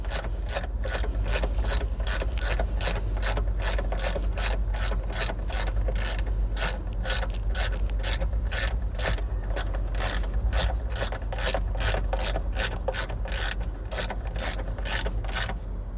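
A ratchet tightens a door hinge bolt on a 2020 Jeep Wrangler, a fast steady clicking close by that keeps going for the whole stretch over a low hum.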